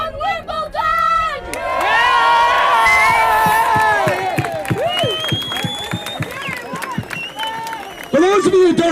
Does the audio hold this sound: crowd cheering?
yes